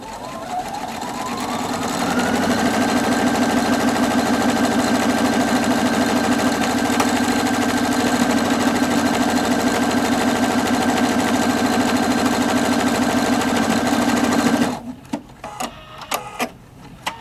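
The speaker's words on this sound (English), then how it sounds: "the machine will feed both columns of the buttonhole in the exact same direction, which also gives you a really nice looking buttonhole" A Husqvarna Viking Opal 670 sewing machine stitches a buttonhole with a tracker foot, giving a loud, steady, rapid mechanical whir that runs alone for about twelve seconds before stopping abruptly, followed by a few faint handling knocks.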